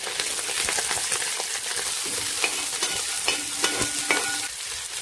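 Onions and green chillies frying in hot oil with mustard seeds for a pork fry, a steady dense sizzle with stirring scrapes and a few small pops, close and continuous with no talk.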